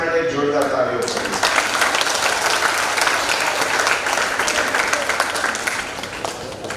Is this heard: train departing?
no